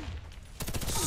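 FN F2000 rifle fire in the shooter game Warface: a quiet lull, then a sudden loud, rapid burst of automatic shots with sharp repeated cracks that continues to the end.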